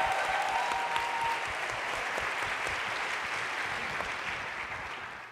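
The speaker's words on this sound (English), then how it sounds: "Let's give them a round of applause." Audience applause at a performance and conference gathering, a dense sustained clapping that tapers off slightly toward the end, heard without any talking.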